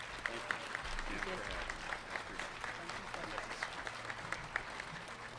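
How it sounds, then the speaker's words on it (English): Steady audience applause for newly named RTD police chief Dr. Joel Fitzgerald Sr., with continuous clapping and a few sharper individual claps throughout and murmuring voices beneath. "Please join me again in a round of applause."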